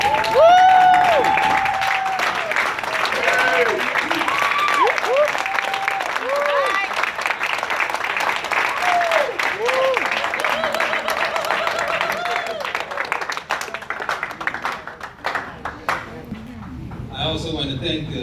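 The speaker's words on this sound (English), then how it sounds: "So could everyone please stand and give a round of applause for our committee." Sustained applause from a standing crowd at a family reunion banquet for the organizing committee, lasting many seconds with cheers and voices mixed in before tapering off.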